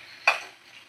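A spoon drags once through already-fried chicken braising in a pan, giving a single short scrape over a faint sizzle.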